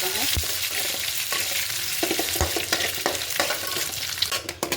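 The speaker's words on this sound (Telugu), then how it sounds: "పెనం పెట్టుకొని ఆయిల్ వేసుకొని ఎగ్ ఫ్రై చేసుకొని" An egg fries in oil in a hot pan, a steady loud sizzle running throughout with a few sharp scraping stir strokes and clinks from a utensil, close up.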